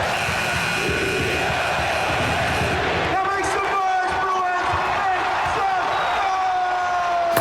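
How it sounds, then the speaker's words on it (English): UCLA basketball crowd at Pauley Pavilion, a loud arena roar of fans with rhythmic cheering and chanting building over the noise, sustained throughout. "My favorite cheer at UCLA is the 8 clap."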